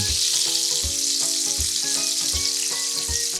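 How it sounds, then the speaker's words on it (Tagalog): Chicken breast fries over medium heat in hot oil, a loud continuous sizzle with regular scraping stirs knocking against the pan roughly every half second, close up and without voices. "Pirituhin natin yung chicken breast into medium heat hanggang sa mag-golden brown nito."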